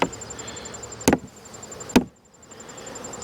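Two sharp, close wooden cracks from a metal hive tool prying open the lid of a beehive while merging a weak colony, spaced about a second apart, with a steady faint hum of bees behind them.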